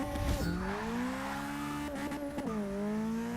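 A B-class Toyota Trueno AE86 launches in Forza 6 while racing a Dodge Viper SRT. The engine revs hard and climbs in pitch, with tire squeal at the start, then drops sharply at two quick gear shifts before pulling up again.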